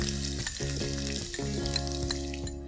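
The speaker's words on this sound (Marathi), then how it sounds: "आणि आता हे छानपैकी परतून घ्यायचं, म्हणजे कांदा थोडासा मऊ होऊन द्यायचा आहे." Chopped onions, green chillies and crushed ginger-garlic sizzle steadily in a hot pan, a continuous close frying hiss with a few soft stirring scrapes and no talk, for a village-style Marathi dish.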